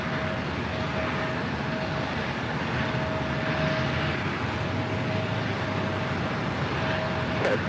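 Steady broadband roar of a Boeing 737-700 airliner at LAX, continuous and moderately distant, with a faint sustained tonal whine running underneath and no voices.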